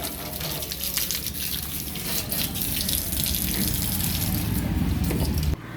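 Water gushing from a tap over a brass oil lamp being washed, a loud steady rushing splash that cuts off abruptly near the end.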